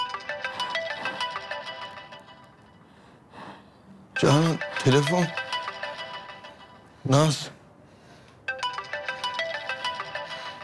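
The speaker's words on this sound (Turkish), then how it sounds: "Telefon." A telephone ringtone plays in a melodic, repeating pattern, breaking off while people talk loudly and emotionally, then resuming.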